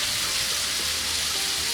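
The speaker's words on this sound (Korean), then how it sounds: "냄비에 삼겹살 한 근 600g을 넣고 익혀줍니다." Pork belly, about 600 g, frying in a pot, a steady dense sizzle of spitting fat that holds at an even, fairly loud level throughout with no talking.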